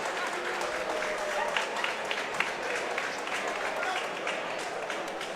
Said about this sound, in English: please make some noise for both of these two young warriors